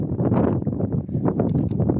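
Gusty wind buffets the microphone with a low, rumbling rush that swells and dips over a couple of seconds, outdoors while crabbing.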